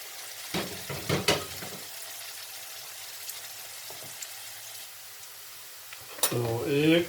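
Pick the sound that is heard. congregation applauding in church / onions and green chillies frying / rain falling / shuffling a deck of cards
onions and green chillies frying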